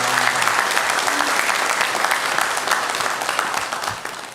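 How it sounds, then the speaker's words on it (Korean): A church congregation claps during a Sunday morning worship service, a dense, steady wash of many hands that fills the room and tapers off slightly toward the end. "박수를 우리 하나님께 올려드리겠습니다"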